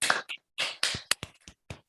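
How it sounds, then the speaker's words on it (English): A few scattered hand claps at the close of a mathematics lecture, sparse separate sharp claps with pauses between them, close and fairly faint. "I clap."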